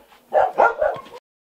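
A small female dog barks three quick, close, loud yaps in a row, then falls silent.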